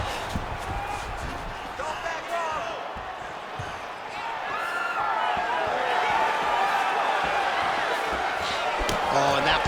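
Crowd noise rises in reaction to a strike during a women's octagon bout in UFC 5, with thuds and scuffles under it and the cheering swelling louder in the second half.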